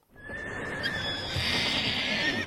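Horses neigh and whinny in a loud, sustained, shrill call that rises and holds over an outdoor show-jumping setting, with faint hoof clatter underneath.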